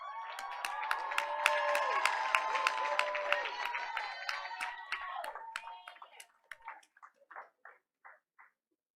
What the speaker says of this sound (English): let's keep the applause going for our next Outstanding Student Award recipient, Emma Garcia.